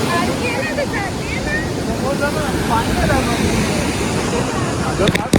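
Steady broadband roar of sea waves on the Konkan shore during a Ganpati immersion, loud and continuous throughout, with a crowd of voices and chatter mixed in beneath.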